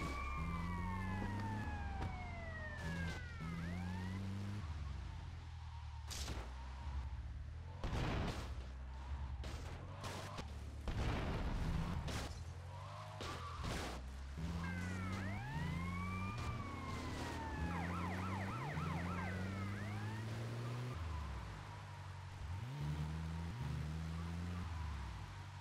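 Ambulance siren in the video game GTA Vice City Tightened Vice, wailing and yelping repeatedly over a steady engine drone and street noise, loud and close throughout.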